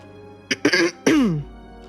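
A close, short throat clearing in two or three quick rough bursts, ending in a low drawn-out grunt, with near silence around it.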